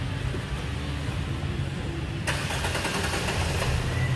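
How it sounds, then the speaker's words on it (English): A Nissan Micra K13 with an intermittent cutting-out fault starts partway through: a brief crank, then the engine catches and settles into a steady idle, heard close up. "So if I start the car up now"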